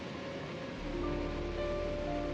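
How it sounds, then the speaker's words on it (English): Sour Milk Gill, a foaming waterfall fed from Easdale Tarn, pours with a steady broadband rush heard from some distance, with no voices. "Fed from the waters of Easdale Tarn is the spectacular waterfall Sour Milk Gill."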